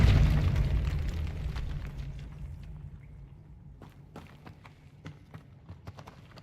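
Depulso spell cast in the Hogwarts Legacy video game, a loud booming blast that rolls into a long fading rumble, followed by scattered light clicks and taps.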